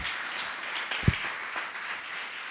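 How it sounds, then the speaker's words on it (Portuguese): A church congregation applauding together, a steady wash of clapping from a crowd filling the space, moderately distant and continuous throughout with one louder close clap. "Você pode aplaudir o Senhor."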